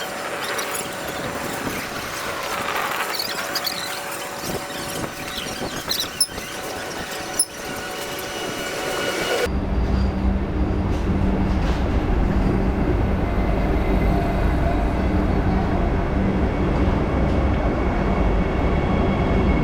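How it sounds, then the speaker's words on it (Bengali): A Vande Bharat Express train pulls into a station platform, starting as a distant rumble under ambient station noise and then swelling into a loud, close, continuous roar of rolling wheels and carriages. "সো ফাইনালি ট্রেন এসে গেছে"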